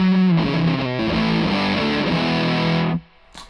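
Electric guitar chords played through an Argenziano Effetti Voodoo '67 overdrive pedal, a thick gritty crunch ringing for a few seconds before cutting off, followed by a faint string scrape.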